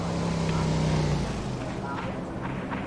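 A motorbike engine in the PUBG Lite video game drones steadily from behind with a constant mid-loud hum, and a brief higher tone fades out early.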